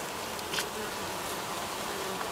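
A dense, steady buzz of many bees humming together inside a retaining wall where a hive's brood comb is exposed, continuous and fairly faint, with no voices.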